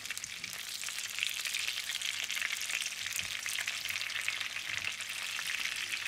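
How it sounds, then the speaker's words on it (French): Egg-dipped zucchini rounds frying in hot oil in a pan, a steady close crackling sizzle that runs throughout with occasional louder pops and no voices. "j'y plonge ensuite les rondelles avant de les déposer sur une poêle avec de l'huile chaude"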